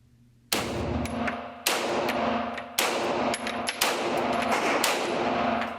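Five loud, sharp pistol gunshots from a SIG P226 or Beretta M9 crack out at uneven intervals about a second apart, each with a long echoing tail and faint metallic ringing between shots.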